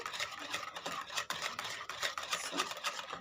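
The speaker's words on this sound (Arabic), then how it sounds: "هدوب الزبادي مع البيض والسكر" A spoon scrapes and swirls steadily through yogurt beaten with eggs and sugar in a bowl for a rawani cake batter, a soft, continuous wet rubbing close by with no talking.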